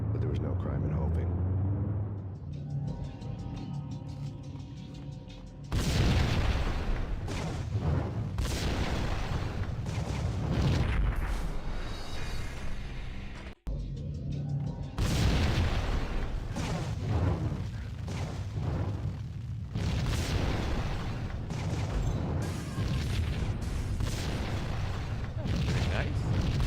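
Explosions: two heavy booms a few seconds apart, each followed by a long rumbling roar that fills the space before fading.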